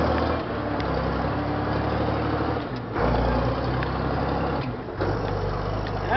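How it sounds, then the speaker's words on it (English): An Allis-Chalmers 7060 tractor engine snarls in first gear, a steady close diesel drone with a deep rumble that swells slightly as the load changes. "First gear. Listen to that snarl."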